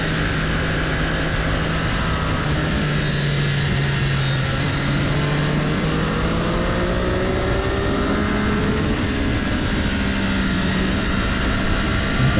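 Engine of a motorcycle on the Thompson race track during a track day session, a steady loud drone with a humming pitch that eases and dips as the rider rolls off the throttle, continuous with wind rush throughout.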